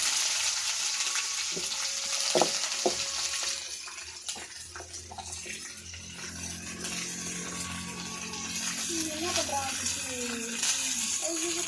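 Sliced onions hit very hot oil in a pan for chicken thokku, a loud crackling fry that settles into a continuous sizzle, with voices talking at times.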